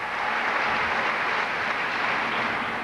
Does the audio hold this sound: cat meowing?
no